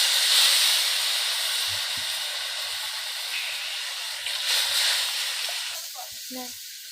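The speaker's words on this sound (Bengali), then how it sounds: "এবার গ্রেভির জন্য দিয়ে দিব 2 বাটি মতো জল।" Water is poured into hot frying spices to make gravy for katla fish curry, producing a loud sustained hiss and sizzle that slowly fades, with soft clinks of kitchenware and a brief voice near the end.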